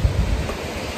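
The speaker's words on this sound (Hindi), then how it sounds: "पानी का साउंड काफ़ी अच्छा आ रहा है, काफ़ी फोर्स में आ रहा है इतने दूर में भी" Water rushes with force somewhere along a road trip from Delhi to Uttarakhand, heard as a steady, loud broadband roar with rumbling low wind buffeting, and no voices.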